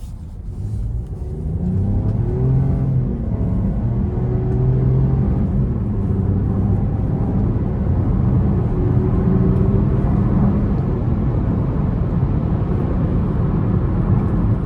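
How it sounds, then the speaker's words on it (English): A Buick Envista's turbocharged 3-cylinder engine pulls hard under acceleration, a loud steady rumble with rising engine tones heard from inside the car, no talking. "this thing gets up to speed, it pulls hard, it's a 3-cylinder, it's turboed"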